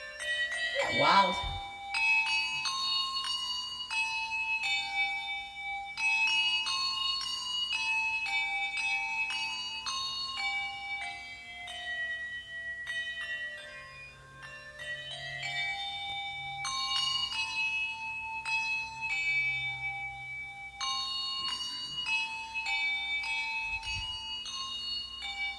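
Bell tones played from a phone waved by hand, heard in a church setting: repeated bright ringing chimes in clustered phrases for about 25 seconds, moderately loud and steady, with faint background voices.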